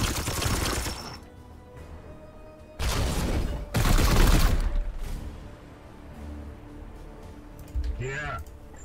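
Heavy support gunfire in the video game Warhammer 40k: Chaos Gate - Daemonhunters, loud bursts of shooting and explosive blasts in several waves, with a voice speaking between them.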